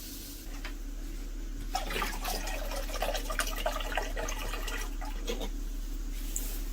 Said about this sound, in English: Let me go ahead and place some more water into it